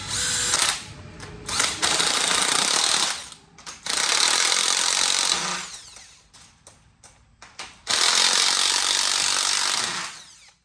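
An impact wrench drives nuts down on bolts while building a sheep tractor, loud rapid hammering bursts of a few seconds each, separated by short pauses and quieter clicks, with no voices.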